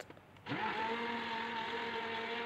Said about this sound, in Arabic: وهنكمل ضرب في الخلاط لغاية ما نتأكد ان كل المكونات اتجانست مع بعضها